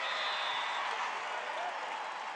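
An arena crowd at a pro volleyball match cheers and applauds after the setter puts away a kill, a steady wash of clapping and voices that holds at an even level throughout.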